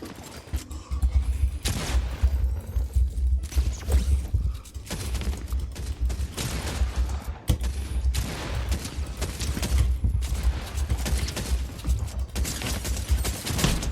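Fortnite gunfire, loud and close, in rapid sharp volleys and sustained bursts with short gaps, some mechanical clatter mixed in.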